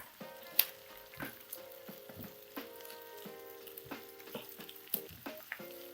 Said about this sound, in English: just frying off the onions here